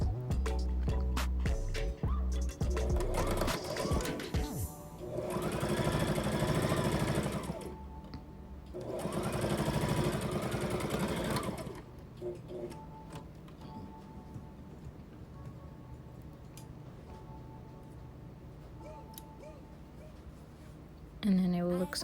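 Sewing machine stitching along the ends of scrunchie fabric, heard as two close bursts of steady mechanical whirring, each lasting a few seconds, with quieter room sound and a voice speaking between and after them.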